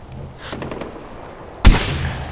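A single sharp, loud gunshot from the Far Cry 4 video game cracks out suddenly, standing alone after a quiet stretch with faint background game ambience.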